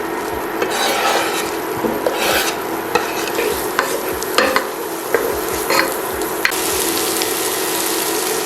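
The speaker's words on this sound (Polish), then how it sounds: "podsmażamy cebulę wraz z czosnkiem i imbirem" Onion, garlic and ginger fry in melted butter in a pot, with a steady sizzle broken by repeated scraping stirs of a spoon against the pot, close and fairly loud with no talk.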